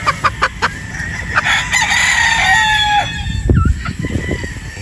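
A gamefowl rooster on a game farm crows loudly and up close, with short clucks before and after the drawn-out call.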